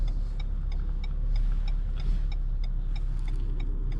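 A car is driven on a driving test route, with a low steady engine and road rumble inside the cabin and faint repeated ticking, like an indicator, above it. Nobody talks.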